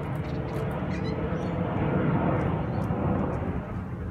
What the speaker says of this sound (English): Now I've got a plane taking off in the background.